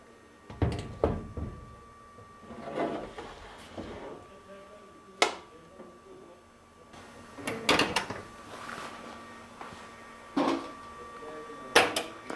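Old battery being pushed back into a TYCORUN battery swap station compartment, a series of sharp plastic clunks and thuds with a door-like knock, spaced irregularly, with a voice speaking between the impacts.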